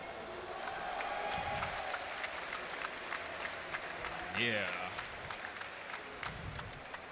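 At a StarCraft 2 tournament at IEM Gamescom 2012, a crowd applauds and cheers in a swelling, sustained wash of clapping, while a caster's voice is heard over it.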